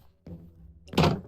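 A wooden door in Minecraft opened by a villager, with a soft click followed by a louder close thunk, heard up close and alone with no voices.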